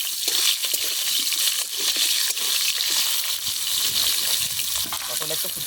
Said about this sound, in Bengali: তেল গরম হয়ে গেছে, এবার দিয়ে দেবো পটলগুলো